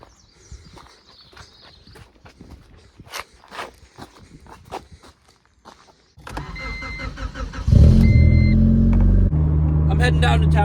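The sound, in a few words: car driving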